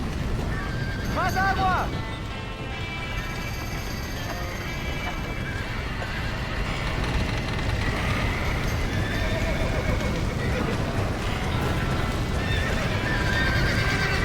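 Horses in Red Dead Redemption whinny loudly in a high, wavering burst early on, then keep snorting over steady hoof clatter and a busy, noisy outdoor commotion, with shouting voices throughout.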